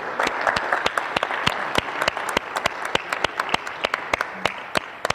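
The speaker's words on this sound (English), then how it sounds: "the real person who deserves the round of applause is Betty Goebel," Audience applause at a talk on climate change, light switches and coal plants: a fairly small crowd clapping steadily at close range, with individual sharp claps standing out in a quick, continuous rhythm.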